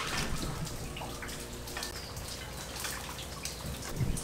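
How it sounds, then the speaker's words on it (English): Scattered raindrops patter and drip faintly outdoors in Southern California, irregular soft taps against a quiet background hiss. "That's rain, people."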